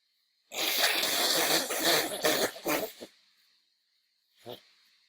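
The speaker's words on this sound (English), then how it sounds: "you have to hear me blow my nose" A long, loud, wet nose blow lasting a few seconds and ending in short bursts, then one brief snort or sniff after a pause.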